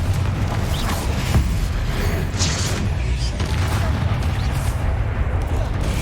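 Fiery Confringo spell blasts in the Hogwarts Legacy video game: a steady barrage of dense booming explosions and crackling bursts, loud and continuous, with chanted spell incantations mixed in.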